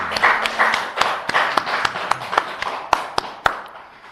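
In a church service, a congregation claps in loose, uneven rhythm with several sharp, distinct claps standing out from a softer patter, fairly close and loud, tapering off near the end.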